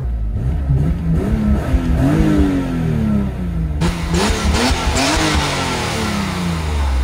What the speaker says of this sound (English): And this is what the engine sounds like.